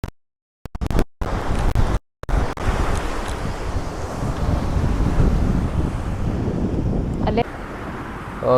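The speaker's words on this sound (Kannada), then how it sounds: "ಈಗ ಅಲೆ ಜಾಸ್ತಿ ಆಗಿದೆ ಬೀಚ್ ಹತ್ರ ಬನ್ನಿ ಹೋಗೋಣ" Ocean waves roll and wash onto the shore at Kaup Beach with a steady rushing roar, wind buffeting the microphone at the start.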